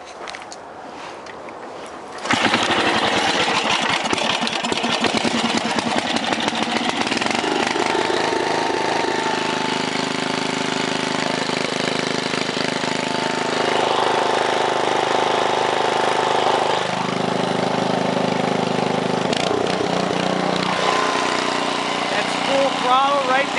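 A 1968 Briggs and Stratton 7hp 275cc horizontal engine in excellent condition catches after a short start and runs steadily, a loud, close, continuous putter with a voice talking over it.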